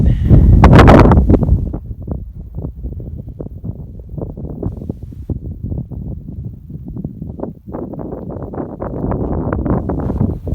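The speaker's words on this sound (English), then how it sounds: "the wind is coming from that direction, which apparently it's up to 30 mile per hour wind gusts" Blustery wind gusting up to 30 mph buffets the microphone in rough, uneven gusts, loudest at the start, with faint rustling and knocking underneath, in Wyoming.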